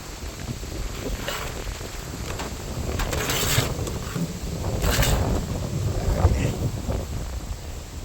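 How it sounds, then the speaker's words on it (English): Strong gusty wind buffets the microphone outdoors during a harvest on a cold day with a frost warning, a steady roar rising in surges, with no talking. "It's pretty windy."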